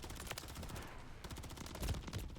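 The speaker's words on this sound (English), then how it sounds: "A fast-firing SMG losing to a pistol up close." Rapid SMG bursts trade with pistol shots in a close-range firefight in Call of Duty Modern Warfare 3, a quick run of sharp cracks with a heavier report near the end, fairly quiet in the mix.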